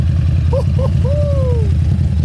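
Harley-Davidson V-Rod Muscle idling with a TAB Performance exhaust, a loud, deep, throbbing rumble close by; a couple of short whistle-like tones pass over it.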